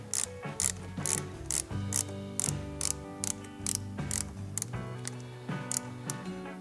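A hand ratchet clicks in quick, regular bursts while tightening a battery terminal on a SAAB 9-5, close and crisp, each stroke a short run of ticks with brief pauses between.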